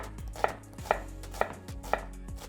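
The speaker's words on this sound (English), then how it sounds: "And now I'm going to cut the onion." A knife chops onion on a board for Uyghur lamb stew, four crisp evenly spaced cuts about half a second apart, close and quiet with no talking.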